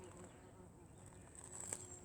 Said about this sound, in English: There's the bees.